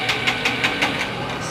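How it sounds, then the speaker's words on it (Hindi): The electric starter of a Yamaha YBR motorcycle cranks in five quick rhythmic pulses without the engine catching, followed by steady mechanical hum. "अब सेल मार रहा हूँ,"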